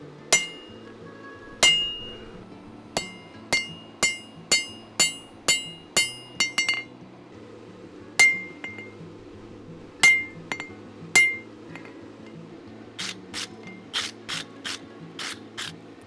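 Sharp metallic hammer strikes ring out on a set-down tool against steel while forging an axe, coming in bursts of quick, evenly spaced blows with brief pauses between groups, close and clear.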